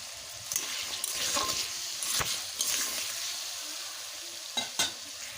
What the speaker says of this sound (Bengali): আলুগুলো ভেজে নেওয়া হয়ে গেছে